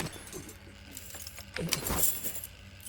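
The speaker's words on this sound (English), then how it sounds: "And the keys, darling." In a cutscene from the video game F.I.S.T.: Forged In Shadow Torch, a set of keys is handed over and jingles in short bright clinks, close and moderately loud over a quiet background.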